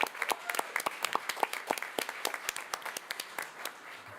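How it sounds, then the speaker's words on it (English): Audience applause at a school board of education meeting, a steady patter of many hands clapping at moderate distance, sustained for several seconds with uneven, overlapping claps. "Can we give them a round of applause?"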